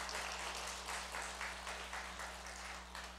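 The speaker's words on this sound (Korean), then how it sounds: "우리 박수로 격려하겠습니다" A church congregation at a Sunday service clapping together, a steady wash of applause lasting several seconds over a constant low hum.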